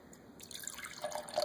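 Homebrewed beer pouring from a tap into a glass with a soft liquid splash and trickle, starting quietly and growing a little louder and busier in a close, short burst.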